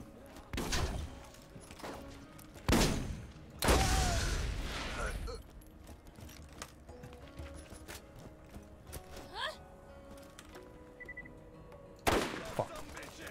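Rapid bursts of video game gunfire crack out in loud clusters with quieter single shots between, the player crouching and firing in a tactical shooter.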